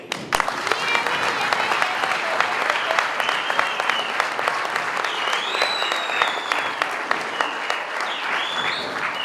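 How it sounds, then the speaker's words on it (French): Loud, sustained applause from a large crowd at a political party assembly, dense clapping filling the whole stretch without pause. "le patriarche Charles Mwando Simba, que je vous demande d'applaudir."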